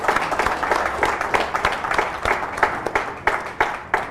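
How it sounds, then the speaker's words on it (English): A conference audience at a summit panel on Africa claps in a steady round of applause for the panelists, many hands patting together at moderate distance, with no talk. "A round of applause for our panelists."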